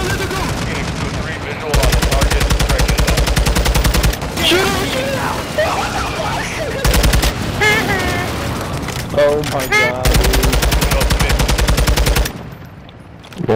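Sustained bursts of .50 cal machine gun fire in the video game MW2 DMZ pound out in long rapid strings with brief pauses, loud and close, while players talk over the shooting.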